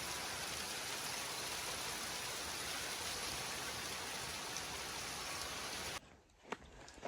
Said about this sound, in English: it's like it's rain, snow, and hail all at the same time. And wind.